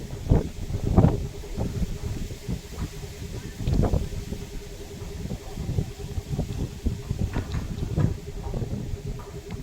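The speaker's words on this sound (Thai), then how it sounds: "นี่แต่เสียงลม พี่น้องเอ้ย เสียงลมอืออยู่ครับ" Gusty outdoor wind buffets the microphone during hydraulic tank cleaning on a Kobelco SK200 excavator, a low, rumbling roar with irregular louder gusts and a faint steady hum beneath.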